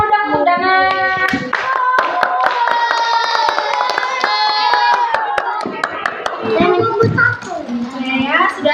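A primary-school class claps hands together in a lively, fast patter, mixed with children's voices calling out and chattering throughout, close and fairly loud.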